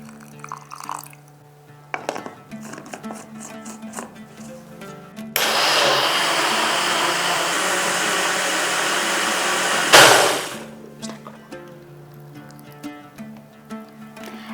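A kitchen blender grinds mung dal with milk into a smooth batter for patishapta. It runs as one loud, steady whir for about five seconds, then cuts off sharply, with quieter kitchen clatter before and after.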